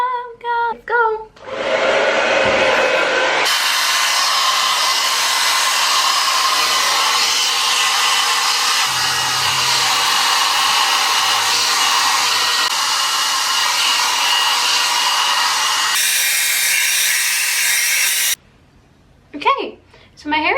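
A hair dryer fitted with a diffuser blows a steady, loud whoosh while drying long curly hair, running continuously for most of the stretch before cutting off. A voice speaks briefly before it starts and again after it stops.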